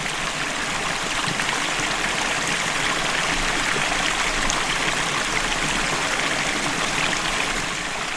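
River water rushes steadily through a sluice gate, a loud, dense, unbroken roar of flowing water close by with no pauses or voices.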